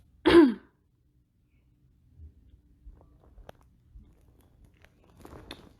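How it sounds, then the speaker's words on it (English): A single short, close cough or throat-clearing bursts out at the start, then gives way to near silence broken only by faint rustles and small noises. "I'm coughing like I got motherfucking coronavirus."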